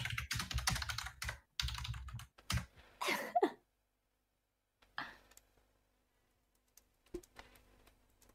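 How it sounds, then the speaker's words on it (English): Bursts of typing on a computer keyboard, with rapid clusters of clicks at first, then a silent stretch, then a few sparse, fainter keystrokes. The sound is close and alone. "Keyboard ASMR."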